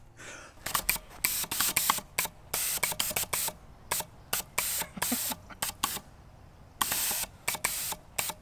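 Gas thrusters on a drone firing in short, sharp bursts of loud hissing, repeated in an irregular rhythm with brief silences between each jet.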